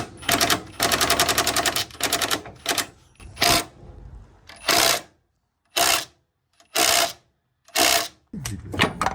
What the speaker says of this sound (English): that is the puller tool on there now, and that's going to tighten now into that thread and hopefully pull the arm straight off